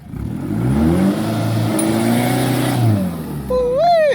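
A powerful farm vehicle engine labours loudly and steadily while pulling through a field digging up Rayong 72 cassava, its deep drone swelling and easing, with a brief rising whine near the end.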